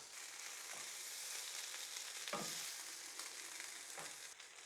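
Cabbage, carrots and potatoes fry in butter for bubble and squeak, a soft steady sizzle close by with a few scraping turns of a spoon, quiet and without talking.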